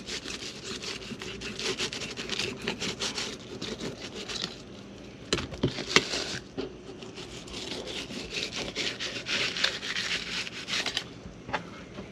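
A knife filleting a freshly caught bluefish, a steady rasping, sawing scrape of the blade through flesh and skin that runs continuously close to the mic with brief louder strokes, no talking.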